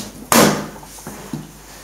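A door creaks open indoors with one loud, sudden burst, followed by two softer knocks or bumps as it settles.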